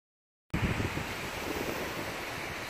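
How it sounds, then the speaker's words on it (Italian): Strong wind at the seaside roars into the microphone as steady, loud broadband buffeting, starting abruptly and continuing without pause, with no voices. "non so se mi sentirete perché c'è un vento della Madonna"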